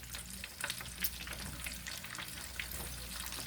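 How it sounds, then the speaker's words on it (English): Chicken wings fry in a pan with a busy, continuous sizzle and crackle, dotted with sharp pops and spatters. It sounds close and moderately loud, with no talking. "Frying them up, getting them a little extra crisp on the outside"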